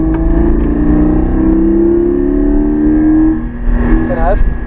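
Porsche Cayman GT4 on a race track, the engine note climbing in pitch as the car accelerates, then dropping and rising again as it revs near the end, heard from inside the car at close range under occasional talk.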